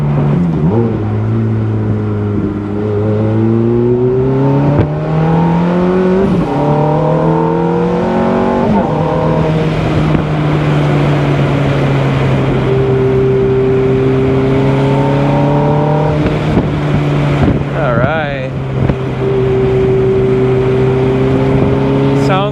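A 2005 Ferrari F430 Spider driven hard on a road, its engine climbing through several rising rev sweeps with gear changes, loud and close throughout.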